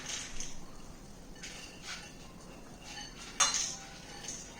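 Soaked moong beans go into a perforated metal vessel with scattered light metallic clinks and scrapes and one sharper clink, close by and quiet, without talk.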